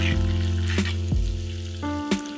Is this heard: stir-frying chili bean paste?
yes